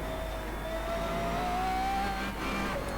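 Brabham BT62 hypercar engine in Assetto Corsa at Laguna Seca, droning loud and steady with a slowly rising pitch as it pulls through a corner.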